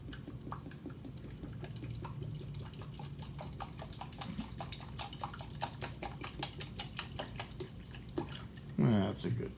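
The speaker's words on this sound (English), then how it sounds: "Gonna pour this into the pan." Dr Pepper pours into a pan with a lively fizz of small crackles and drips, while someone talks over it; a louder splash comes near the end.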